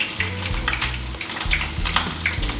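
An egg frying in a greasy pan, cooking until the white sets above the yolk, gives a steady crackling sizzle with scattered pops over a low humming background, with no talking.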